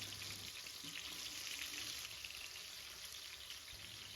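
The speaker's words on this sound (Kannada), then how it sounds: "ಎಣ್ಣೆ ಚೆನ್ನಾಗಿ ಕಾದ್ಮೇಲೆ ಅದಕ್ಕೆ ಹೆಚ್ಚಿಟ್ಕೊಂಡಿರೋ ಅಂಥ ಟೊಮೆಟೊ, ಮಾವಿನಕಾಯಿ, ಹಸಿರು ಮೆಣಸಿನ್ಕಾಯಿ, ಬೆಳ್ಳುಳ್ಳಿ ಎಲ್ಲದನ್ನು ಸೇರಿಸ್ಕೊಂಡು" Chopped tomato, raw mango, green chilli and garlic fry in hot oil for a raw mango chutney, giving a steady bright sizzle. It is close and continuous, with no talk.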